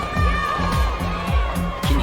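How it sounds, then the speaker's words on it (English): Spectators cheer and shout at a women's ski streetstyle final at Winter Dew Tour in Copper, a lively crowd roar with repeated rising whoops, fairly close and continuous. "You can hear the crowd getting a little rambunctious out there, cheering everybody on"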